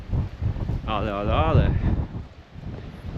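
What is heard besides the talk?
wind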